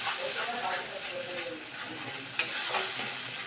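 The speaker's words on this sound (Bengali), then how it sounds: "নিয়ে ভালো করে কিন্তু আমি মিশিয়ে নিচ্ছি" Sour yogurt stirred into a potol and prawn curry in a pan over low flame, soft sizzling and spoon scraping, with a brief sharp clink near the end.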